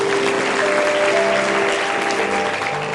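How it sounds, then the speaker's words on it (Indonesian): Loud, dense applause from a church congregation honoring Jesus during a Holy Spirit sermon by Philip Mantofa, steady and sustained throughout with a faint tonal hum beneath. "Kita beri tepuk tangan dulu untuk Tuhan Yesus"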